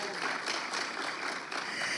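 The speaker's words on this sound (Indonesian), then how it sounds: "Ayo tepuk tangan buat Tuhan." Congregation at a church service in Manado applauding together, a dense, steady wash of clapping that fills the whole moment at even loudness.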